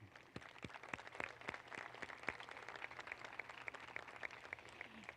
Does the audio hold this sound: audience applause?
yes